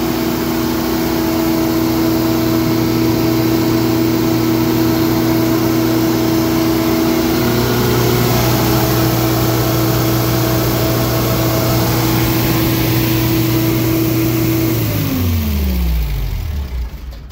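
A Winco 20kW generator's engine runs close by with a loud, even, steady drone that never falters, then winds down and slows near the end.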